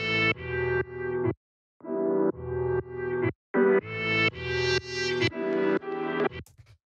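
Chopped jazz sample loop for house music, choppy chords sliced into short rhythmic stabs with brief gaps and a clean cutoff at the end, loud and upfront with no talk.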